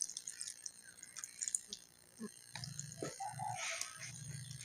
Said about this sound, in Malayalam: ഇതാ വെള്ളം ഒലിക്കണേ